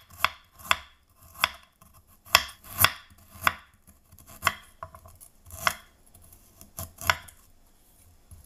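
A knife slices peeled ginger thinly on a cutting board, about a dozen crisp close chops at an uneven, unhurried rhythm with quiet gaps between them.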